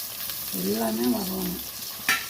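Green chilli, garlic, tamarind and curry leaves sauté in a pan for pirandai thuvaiyal, making a continuous close sizzle. A brief hum-like voice rises over it midway, and a sharp utensil knock lands near the end.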